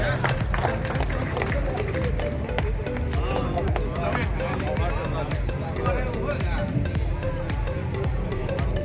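A school kavi sammelan (poetry gathering) audience in Bihar claps steadily and densely throughout, with crowd murmur mixed in and a voice speaking over the applause.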